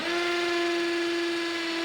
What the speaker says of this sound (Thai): แล้วก็มาทดสอบ เจาะปูนนะครับ ก็สามารถเจาะได้ครับ สำหรับผนังปูนที่ไม่แข็งเกินไปนะครับ